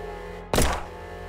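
A single sharp gunshot in the video game Estranged, fired at a security camera, a loud short blast with a brief tail standing alone against a quiet humming background.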